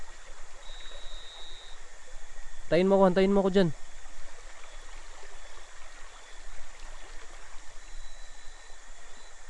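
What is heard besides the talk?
river water flowing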